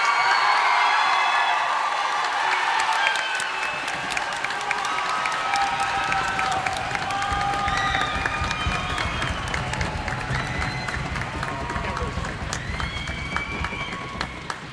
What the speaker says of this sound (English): please give all the students who have performed tonight a big round of applause